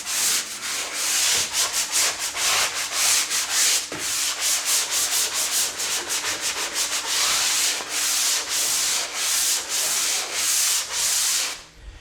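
A sanding block scrubbed over joint compound on repaired drywall cornerbead, making loud, close, continuous raspy strokes in a steady back-and-forth rhythm for the whole stretch, with no voices.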